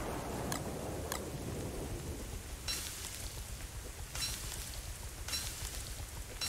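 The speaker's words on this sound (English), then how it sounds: "It's raining pretty hard." Heavy rain pours steadily in the survival video game Don't Starve Hamlet, a constant dense hiss with a few sharper bursts and crackles, moderately loud and with no voices.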